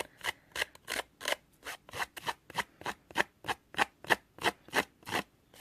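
Paper cardstock edges being roughed up by repeated scraping, about fifteen regular rasping strokes in a steady back-and-forth rhythm, close and clear with no talking.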